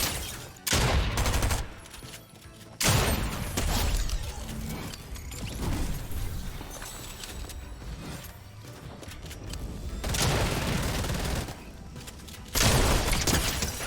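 Charge SMG gunfire in Fortnite, loud dense bursts of rapid shots separated by short gaps, mixed with mechanical clatter and impacts.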